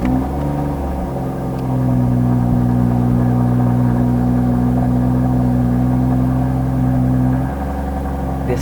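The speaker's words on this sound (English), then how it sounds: "Brand new Rolls-Royce Ghost Black Badge cold start." A brand-new Rolls-Royce Ghost Black Badge on cold start, fitted with a Novitec valve exhaust, idles with a steady, deep low rumble that swells slightly after the first second and eases near the end, close and alone.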